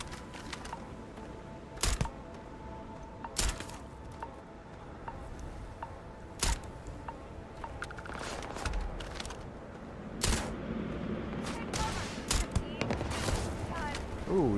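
Sparse gunshots crack out in the space game Starfield, single sharp reports spaced every few seconds with a short clustered volley near the end, over a low ambient bed and occasional talk.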